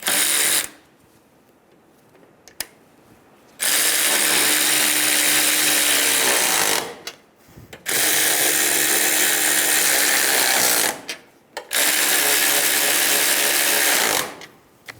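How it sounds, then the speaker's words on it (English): Strut nuts on a 2000-2007 Ford Focus are snugged down with a power tool, three loud sustained whirring bursts of several seconds each, separated by brief quiet pauses, close up and without speech. "Snug down the nuts."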